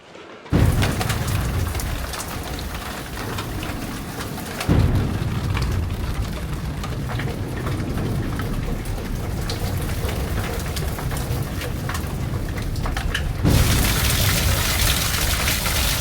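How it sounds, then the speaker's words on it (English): Steady rain pours down outdoors in rural Wales in May, a continuous broadband hiss that stays loud and even throughout, with brief shifts in intensity and no voices. "the rain seems to be in for the day now"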